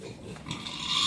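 Pigs grunting and snorting at a fattening farm, a low rough murmur of several animals at moderate distance, rising slightly in intensity toward the end.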